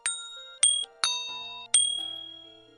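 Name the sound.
bell ringing sound effect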